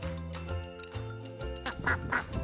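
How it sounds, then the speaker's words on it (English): A duck quacks twice in quick succession, clear and close, following a steady musical backing, within a children's phonics lesson. "Duck."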